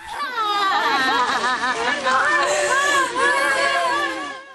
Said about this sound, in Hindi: रोते बिलखते परिवार के लोग,